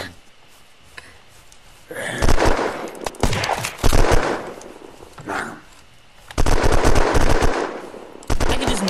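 Sustained automatic gunfire from a machine gun against zombies in the survival game Unturned, loud rapid bursts in several long volleys with short pauses between, with players' voices mixed in.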